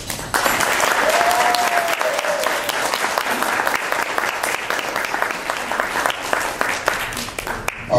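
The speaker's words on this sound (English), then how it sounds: "I want you to give a rounding applause" Audience at a year-end reception giving a round of applause, dense continuous clapping from a crowd held at a steady level for several seconds, with a brief whistle-like tone early on.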